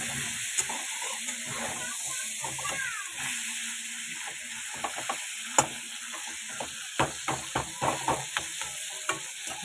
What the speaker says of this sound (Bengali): মাথাটা ভালো করে ভেজে নেব